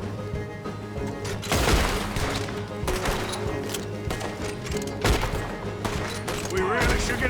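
Gunfire rings out in a video game, with repeated bursts and thuds under continuous background game sound, and several loud hits clustered around the middle.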